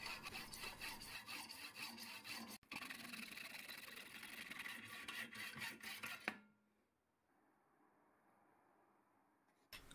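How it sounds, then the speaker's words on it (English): A hacksaw cuts through a brass blank for a custom electric guitar part, a fast, rhythmic rasp of close back-and-forth strokes lasting about six seconds, then stopping abruptly into near silence. "I'm cutting off the blank using my hacksaw."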